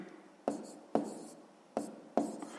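A pen writes fractions on paper for a sixth-grade math exercise: four short, crisp strokes scratch close by at an uneven pace, each one fading quickly, with no voices.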